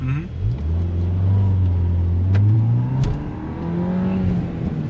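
A 2024 Volkswagen Golf R MK8 with a manual transmission pulls away gently, its engine revving up into a steady droning climb, briefly easing between gears and rising again, heard close from inside the car.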